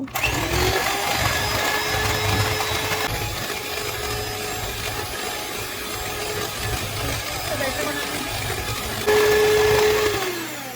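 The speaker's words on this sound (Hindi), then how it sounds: "बीटर से इसे स्मूथ करना है।" An electric hand beater whirs steadily while blending oil and sifted powdered sugar for an eggless chocolate cake batter, its motor whine pitching up sharply near the end.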